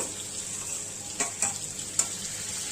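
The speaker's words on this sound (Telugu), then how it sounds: "ఇప్పుడు ముందుగా మనం కట్ చేసి పెట్టుకున్న టమాటాలు 2 మీడియం సైజు కట్ చేసుకుని వేసుకుంటున్నాను" Two medium-sized chopped tomatoes sizzling and frying in a pan for a bitter gourd curry, a steady hiss with a few sharp stirring clicks and scrapes near the end, close and fairly soft with no talk.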